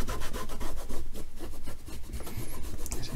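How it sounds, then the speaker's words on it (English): Cloth rubbing silicone polish over the case of a 1962 Cossor CR1302T transistor radio, a close, steady run of quick back-and-forth scrubbing strokes with no talk. "just put a little bit of silicone on there, just so, again, just to brighten it up just a little bit."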